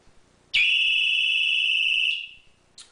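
A security alarm siren triggered after its magnetic switch is defeated with another magnet, a piercing high electronic tone that starts abruptly, holds loud and steady for about a second and a half, then cuts off, with a short restart at the end.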